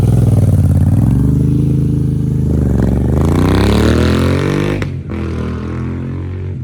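Moto Guzzi motorcycle fitted with an Agostini exhaust climbing a hill, its engine loud and close, revving hard with a rising and falling pitch before a sharp shift and continued throaty running.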